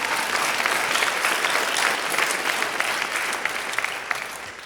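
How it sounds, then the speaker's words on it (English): Steady applause from a large audience at a talk, dense clapping sustained throughout without pause, loud and close, with no clear speech over it. "if somebody claps, we all clap."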